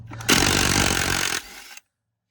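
Power tool, likely an impact gun, driving a bolt while Porsche 924 coilovers are fitted: one loud, harsh burst of about a second and a half that drops briefly before cutting off, with no talk.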